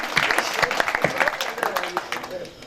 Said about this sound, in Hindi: एक बार मुझे प्रेम के लिए तालियां दीजिए